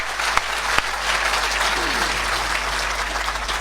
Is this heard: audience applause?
yes